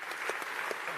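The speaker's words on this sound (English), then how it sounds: "Round of applause for the anniversary update," A quick burst of audience clapping at a Planet Coaster expo presentation, dense and fairly loud with a few sharper individual claps standing out over roughly a second.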